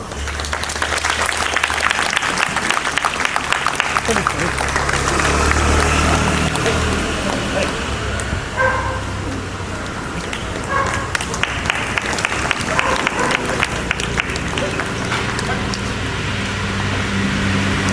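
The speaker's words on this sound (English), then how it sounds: "clap." Audience applause at an International Yoga Day event in a park in JP Nagar, a long stretch of crowd clapping with sharp individual claps standing out, continuing steadily over background murmur.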